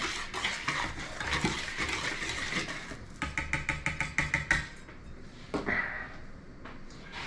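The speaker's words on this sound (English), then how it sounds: "We give this a quick mix." Lemon white chocolate cookie dough being mixed by hand in a bowl while camping, a rapid series of scraping, knocking strokes with a spatula against the bowl, close and fairly quiet, with brief pauses between bursts.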